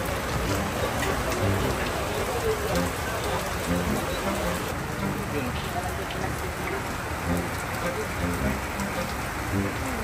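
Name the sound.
heavy rain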